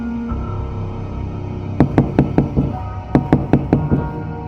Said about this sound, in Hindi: अचानक दरवाजे पर दस्तक हुई